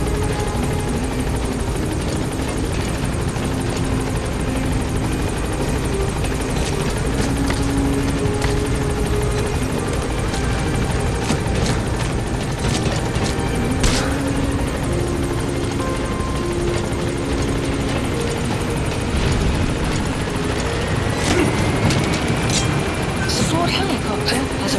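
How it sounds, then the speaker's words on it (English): In the video game Metal Gear Solid V, a support helicopter hovers nearby with a continuous rotor thrum and engine whine across the whole stretch, while game voices and effects play over it. "Support helicopter has arrived."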